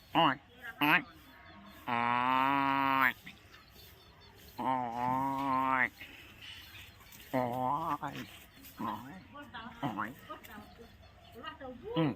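Cow lowing in long harmonic moos at a farm home, several drawn-out calls close by, broken by short noises and a voice speaking in between.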